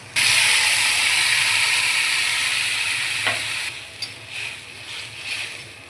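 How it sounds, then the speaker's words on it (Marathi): Loud, steady sizzle and hiss as water is poured into a hot pan of egg curry masala with red chilli powder, a sharp splash near three seconds, then the frying noise bubbling down with a few stirring clinks. "याच्यात आपण ॲड करणार आहोत पाणी"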